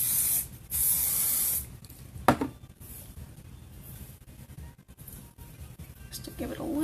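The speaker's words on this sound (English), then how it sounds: "Just going to add some hairspray to all of it." Hairspray comes from an aerosol can onto a woman's hair in a few short, close hissing bursts, with quiet handling noises between them.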